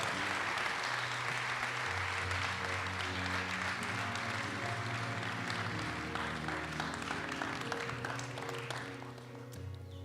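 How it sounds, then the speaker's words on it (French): Audience applause at an evening gathering welcoming a company president, a steady broad wash of clapping over a sustained low music bed that holds for the full stretch, easing slightly at the end. "Allez, on applaudit"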